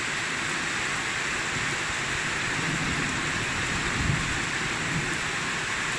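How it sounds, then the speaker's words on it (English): Steady rain falls during a wet-season Saturday afternoon, a constant broadband hiss of drops on surfaces. A faint low rumble of distant thunder rises briefly partway through. "Bit of thunder, not much lightning, which is good."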